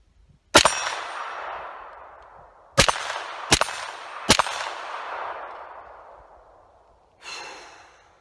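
Rifle shots fired through an SWR Specwar 5.56 suppressor, four sharp muffled cracks spaced a few seconds apart, each trailing off in a long fading ring, followed by a softer burst of noise at the end.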